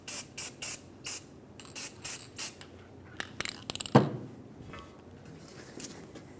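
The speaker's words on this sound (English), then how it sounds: "I'm going to spray a little bit of anti-seize on the surface that we cleaned" Anti-seize spray hisses onto the cleaned brake backing plate of a 2003-2009 Dodge Ram 2500 in a run of short, evenly spaced bursts, then a few quick clicks and a sharp knock, close and without talk.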